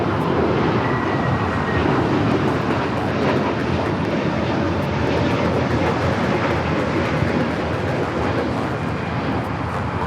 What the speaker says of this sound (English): That is Spirit Airlines 1273 taking off to San Antonio, Texas on the A321neo.